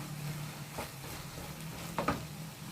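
Minced beef and mushrooms frying in a pan on a stove give a quiet, steady sizzle, broken by a few soft stirring scrapes, with no voices.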